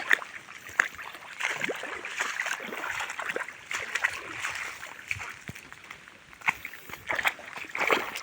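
Floodwater from a flash flood rushes and sloshes nearby across a village entrance road, with irregular splashes and gurgles over a steady flowing hiss.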